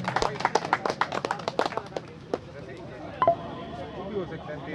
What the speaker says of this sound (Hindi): बस जोरदार तालियां हो जाए किशोर दा की।